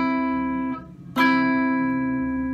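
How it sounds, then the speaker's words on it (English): A major third interval: one sustained pitched note fades out, then a second bright note is struck sharply and rings on clearly, close and fairly loud, with no voices. "A major third sounds like this"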